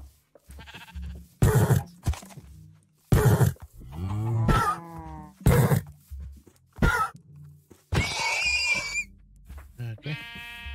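Horses in the Minecraft video game give several brief whinnies and snorts, with players talking and laughing over them.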